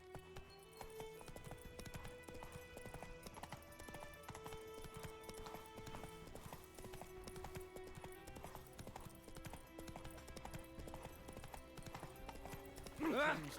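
Roach the horse trotting in The Witcher 3, a steady clip-clop of hooves under game music, with a brief snort or whinny near the end.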